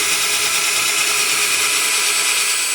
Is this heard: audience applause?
no